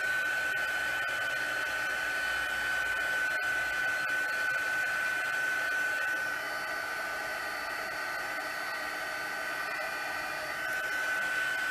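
Steady, even whoosh of a craft heat tool running on high while drying wet paper, close and continuous for the whole stretch with a faint whine on top.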